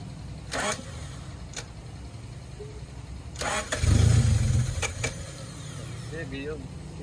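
A car engine with a broken, sticking starter cranks in short separate bursts, then turns over into a louder, rough rumble near the middle before settling. People talk nearby.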